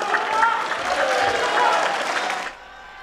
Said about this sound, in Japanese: まずひときわ大きな歓声で迎えられた森山翔太選手